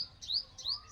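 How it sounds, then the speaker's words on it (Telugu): A small bird chirps twice in quick, bright rising notes, close and clear with no talk, out in the open after a rain and wind storm. "చిన్నది పిష్క చెట్టు మీద తిరుక్కుంటూ బాగా వరుతుంది"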